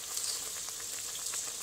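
Fried pieces of rupa pathia river fish go into boiling Bengali fish curry, giving a soft, continuous sizzle and bubbling hiss, fairly quiet and unbroken by talk.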